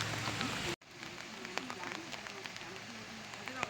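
Rain falls steadily outdoors at Pillnitz near Dresden, Germany, a soft continuous patter with scattered drops, while a person talks quietly over it.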